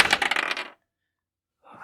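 A quick burst of rattling clatter as dice tumble across a table during a tabletop roleplaying game. It stops abruptly, and after a short silence a brief faint scrape follows.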